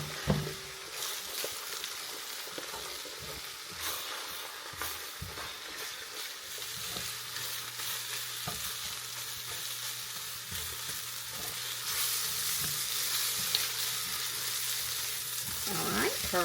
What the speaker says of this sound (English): Just going to scramble the egg.